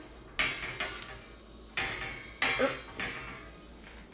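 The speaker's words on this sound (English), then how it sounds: "I'm going to scrape up these last bits of onion" Spatula or spoon scraping the last dry-roasted onion bits from a pan while making Mexican salsa, giving several separate scraping strokes with short clattering knocks, fairly close and alone.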